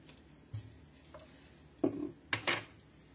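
A silicone spatula scrapes fried onions and lardons from a pan in a few quiet, separate strokes, with soft knocks and clicks and a couple of closer scrapes near the end.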